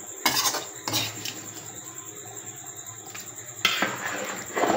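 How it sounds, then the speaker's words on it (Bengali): Beef pieces go into a biryani pot, giving several loud metallic clanks and scrapes of a utensil against the pot, spaced irregularly with quieter stretches between. "এইভাবে আমি সবগুলো মাংস বিরিয়ানিতে দিয়ে দেবো"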